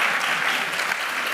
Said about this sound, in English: You would not have been encouraging applause in the audience